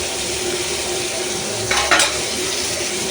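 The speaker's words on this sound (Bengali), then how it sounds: "এই যে চিংড়ি ভাজা হচ্ছে," Shrimp frying in a hot wok (kadai) at home, cooked for a Malabar spinach and shrimp dish with garlic and green chillies: a steady sizzle throughout, with a brief louder stirring scrape near the middle and no talk.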